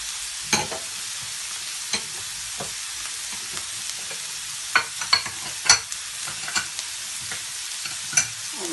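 Noodles stir-fried with fried chicken, fresh onions and bean sprouts: a steady soft sizzle under repeated scraping and clattering stirs, with sharper utensil knocks near the end.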